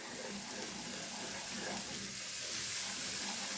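Garlic fries in a pan for a curry, giving a steady, fairly faint broadband sizzle that holds evenly throughout with no talking.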